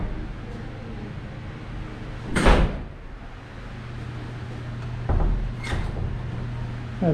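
Door of a truck stop room clicking as it is unlocked, then swinging open, with a couple of distinct knocks and thuds over a steady low hum of background noise.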